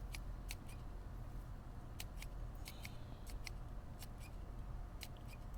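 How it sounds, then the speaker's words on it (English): Scissors snip a longevity spinach stem in a series of sharp, quiet clicks spaced irregularly over steady outdoor background noise. "So I gotta cut a stem like that."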